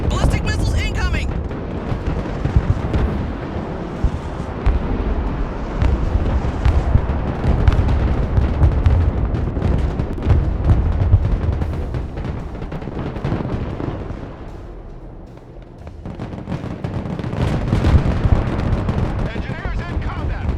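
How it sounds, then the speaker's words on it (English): Ballistic missiles strike in the Broken Arrow military strategy game, a loud continuous barrage of explosions, rumbling blasts and gunfire with brief radio-style voices mixed in. "Ballistic missiles incoming!"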